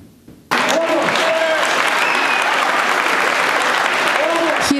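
Relatives, friends and professors applaud at a graduates' oath ceremony at TEI Peloponnese, a sudden burst of loud, sustained clapping from a crowd that starts after a brief quiet moment and continues evenly, with a voice faintly heard over it.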